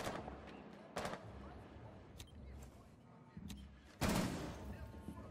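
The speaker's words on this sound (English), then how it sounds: "it's literally just a full automatic gun" Automatic weapon fire in Rainbow Six Siege comes as several sharp bursts spaced over a few seconds, with the loudest near the end, set against busy game background noise and fairly quiet overall.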